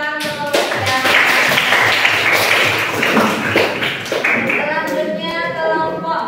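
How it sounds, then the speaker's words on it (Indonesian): Audience applause breaks out at a school teaching session in Indonesia, a dense, steady wash of many hands clapping for about six seconds, loud and close, with voices talking over it throughout. "Beri tepuk tangan untuk saya."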